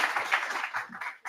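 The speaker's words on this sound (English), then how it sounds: "let's give a huge thank you, round of applause to our awesome panel" Applause rises from the audience at an AI gathering after a panel, a short burst of dense clapping from the crowd that cuts off at the end.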